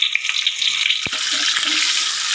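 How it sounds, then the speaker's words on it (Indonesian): Ground spice paste fries in hot oil with a bright, close sizzle and crackle, broken by a brief low thump partway through. "Jika minyaknya sudah panas, kemudian masukkan bumbu yang sudah dihaluskan tadi."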